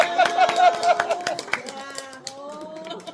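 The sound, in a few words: congregation clapping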